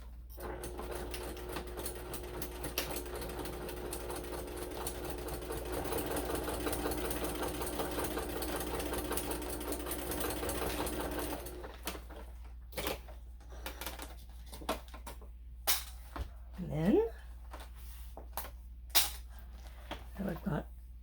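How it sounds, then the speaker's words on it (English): A sewing machine stitches a second row along a handmade bag with a steady, close mechanical whir for about eleven seconds, then stops, leaving scattered handling clicks and rustles. "I will do a second row of stitching just inside of that first line."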